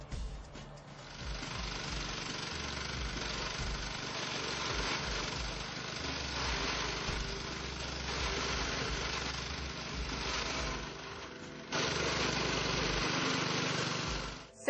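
A small engine on an Edco turbo floor grinder, fitted with a 7-inch scarifier assembly, runs steadily and loudly, its pitch dipping briefly before picking up again near the end.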